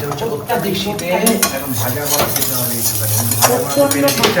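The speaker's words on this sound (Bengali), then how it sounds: "এদিকে মাছের ঝোল ফুটছে" Fish curry bubbles in a pot while food is reheated on the stove, a steady close simmer mixed with stirring, clinking of utensils against pots and sizzling.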